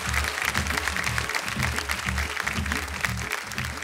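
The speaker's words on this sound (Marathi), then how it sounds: "जोरदार टाळ्या त्यांच्यासाठी" Applause from a kirtan audience honouring the woman kirtankar Vaishnavi Maharaj, a steady dense wash of clapping with music and drum beats underneath throughout.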